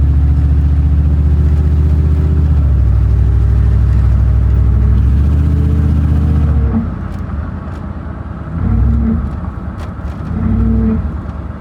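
A 1994 Chevrolet Suburban's running engine hums steadily with a thin, tonal transmission whine over it, then the engine note drops and the whine rises and fades in short swells.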